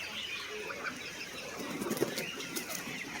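Chickens flap their wings while being loaded into a cage, giving faint, scattered flutters and a brief louder burst of wingbeats against quiet background noise, with no talking.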